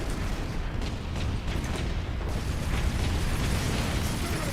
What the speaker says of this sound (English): who's chucking grenades?